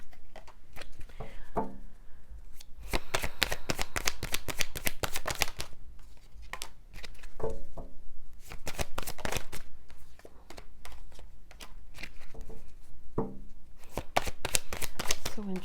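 An oracle card deck, the Soul Helper deck, is shuffled by hand in long bursts of close, rapid riffling flutters broken by short pauses, with a voice talking quietly in between.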